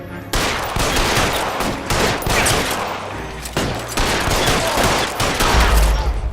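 Rapid gunfire in LA Noire rings out as a loud, dense burst of shots after a brief silence, pausing briefly around the middle before another volley, with a low thump near the end.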